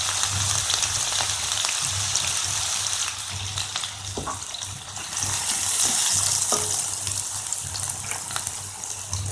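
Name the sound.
chopped onion frying with cumin seeds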